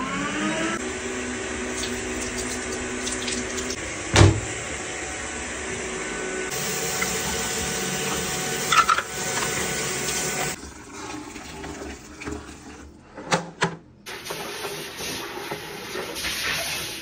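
A wet vacuum sucking water through a hose while cleaning a Nimbus set after use, a loud continuous whooshing suction roar with a sharp bump partway, then the tone changes and drops before resuming, no talking.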